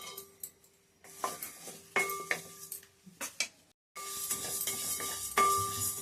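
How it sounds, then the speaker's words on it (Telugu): Cumin and coriander seeds dry roast in a pan for a spice powder. A spoon stirs and scrapes in irregular clinks and rattles, with light sizzling and crackling that thickens near the end. "ధనియాలు కొంచెం వేగినాక ఇప్పుడు జీలకర్ర వేసుకోవాలి"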